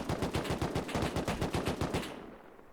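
Rapid video game gunfire with players shooting at allies, a steady burst of about a dozen evenly spaced shots, loud and close, cutting off abruptly at the end.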